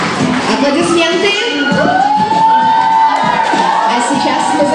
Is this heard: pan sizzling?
no